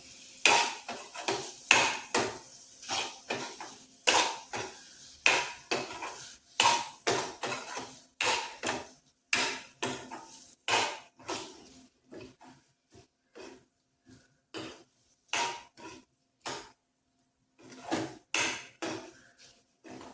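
A spoon scrapes and clacks against a pan while egg and masala stuffing is stirred, giving a rapid, irregular string of sharp metallic taps that loosens into sparser strokes near the end, close and alone.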